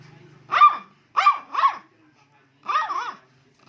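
A dog in Camarines in the Philippines barks four times, loud and close, with a single bark followed by a quick pair and then one longer, wavering bark.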